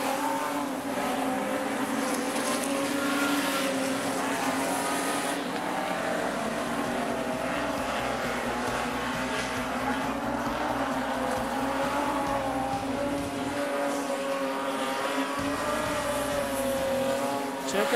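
Super stock race cars roar around Rockhampton Speedway, engines droning and shifting pitch as they pass at a distance, with a muffled announcer's voice talking over the sustained racing noise.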